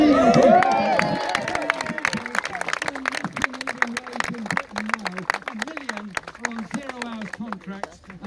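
A crowd at a Jeremy Corbyn rally in Morley cheers and claps, loudest at the start and then fading into scattered applause while someone speaks over it.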